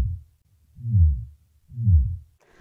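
Worm grunting, a rod rubbed over a stake driven into the ground, sends vibrations that mimic a digging mole. It comes through as two deep, slow, throbbing pulses about a second apart, close and alone.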